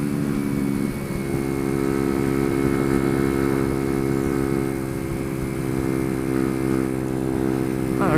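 A Chinese 125cc motorcycle engine runs steadily at speed around 70, a loud continuous droning hum with stable harmonics and wind rush, lasting throughout with no talk.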